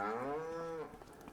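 A cow moos once, long and loud, in a barn in the farming game Farming Simulator 25. The call is close and alone and tails off after about a second.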